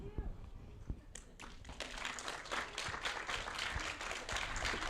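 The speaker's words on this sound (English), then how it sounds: "we're clapping for you, Landon" A small group of people clapping at a service dog team graduation, starting with a few scattered claps and building into a steady patter of applause in a quiet room, with a voice briefly underneath.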